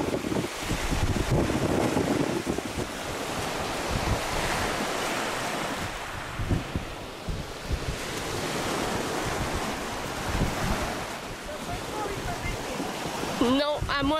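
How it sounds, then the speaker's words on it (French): Strong, cool wind buffets the microphone on a beach at La Isleta in Andalusia, with waves surging and breaking behind it in a continuous roar that swells and eases. "trop de vent et un petit peu frais aujourd'hui"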